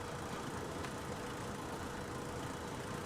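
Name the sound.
car engine idling in video game The Long Drive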